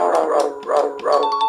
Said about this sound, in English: Dog guitar.